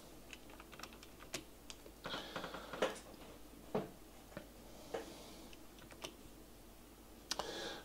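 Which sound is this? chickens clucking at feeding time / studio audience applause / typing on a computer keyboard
typing on a computer keyboard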